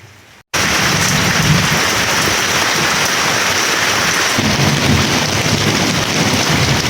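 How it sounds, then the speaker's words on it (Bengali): Heavy village downpour before dawn with thunder, a dense loud roar of rain pounding surfaces that starts abruptly after a brief quiet moment, with low rumbles beneath the constant wash. "মধ্যরাত থেকেই মুষলধারে বৃষ্টি নামছে। এদিকে আকাশে বিজলি চমকানোর আওয়াজ।"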